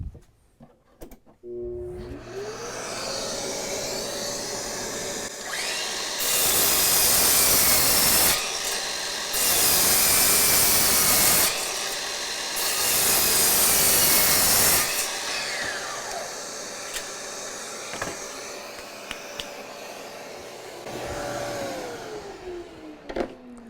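A DeWalt DCS361B 20V cordless 7-1/4-inch sliding miter saw whines through wood in three loud bursts over a steady, droning vacuum that runs before and after the cuts.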